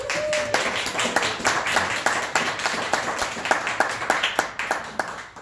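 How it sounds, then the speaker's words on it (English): A Toastmasters audience claps steadily in a round of applause, many hands together in a sustained, even patter, with a faint voice at the very start. "So give yourselves a round of applause."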